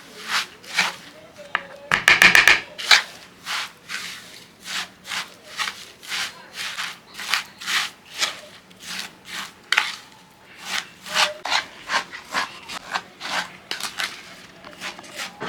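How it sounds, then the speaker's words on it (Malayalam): Shredded kunafa is stirred with pistachio butter in a bowl, giving a steady rhythm of close, crisp rubbing and scraping strokes that repeat for several seconds. "Shredded kunafa and pistachio butter നല്ലോണം മിക്സ് ചെയ്തിട്ടുണ്ട്."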